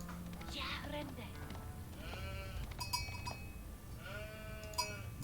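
Sheep bleat several times in the strategy game Age of Empires IV, with wavering calls heard over ongoing talk and soft game sounds, plus a few bell-like clinks.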